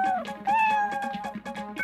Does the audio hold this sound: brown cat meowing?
yes